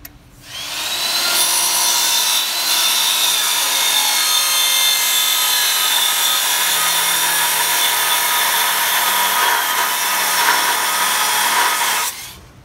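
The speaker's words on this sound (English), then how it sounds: "Got our saw set up at 45. We're gonna sight the blade." A saw set at 45 degrees cuts through pipe in one long, steady, loud grinding pass of about eleven seconds, starting and stopping abruptly, with no speech.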